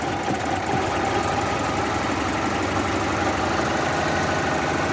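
Car engine running steadily at idle with an even, continuous rumble and slight knocking texture, close and fairly loud, just started after a sensor socket was reconnected.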